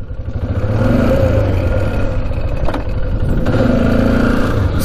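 Polaris 500 4x4 ATV engine running through its gears, a loud close mid-pitched drone that climbs, dips briefly at a shift, then pulls steadily again.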